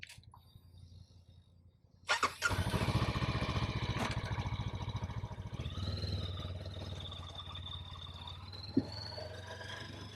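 A 2024 Honda NX500 motorcycle starts after a quiet moment, then its engine hums steadily up close, rising in pitch as the bike pulls away and rides on, with a brief knock near the end.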